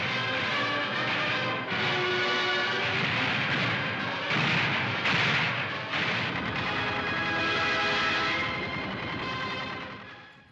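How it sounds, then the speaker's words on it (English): Archival street gunfire during the 1953 East German uprising, a dense, continuous roar of crackling shots and rumbling reports with a few louder surges, harsh and distant-sounding old recording with no talk. "Da peitschen die ersten Schüsse durch die Straßen"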